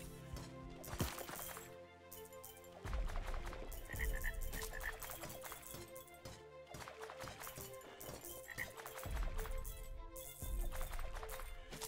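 Frog croaks in a video game, repeated rhythmic calls sounding over a busy musical game soundtrack throughout, with no talking.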